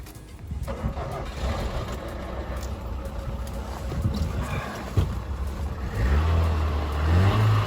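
A car's engine runs in cold weather before it has warmed up, a steady low rumble close by that swells toward the end as the revs rise.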